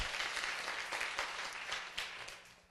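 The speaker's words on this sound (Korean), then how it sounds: "박수" A church congregation claps after a prayer, a continuous fairly faint patter of many hands fading slightly toward the end.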